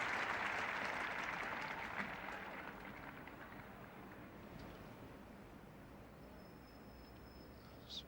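Cricket crowd at the Oval applauding during a 1975 England v Australia Test match, a broad wash of distant clapping that fades gradually into quieter crowd murmur.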